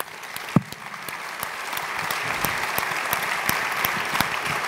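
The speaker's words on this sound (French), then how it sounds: "j'aimerais qu'on t'applaudisse parce que c'est un job vraiment pas facile" Audience applause at a French business discussion, steady dense clapping that holds throughout at moderate level, with no talk over it.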